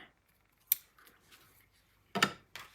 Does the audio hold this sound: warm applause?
no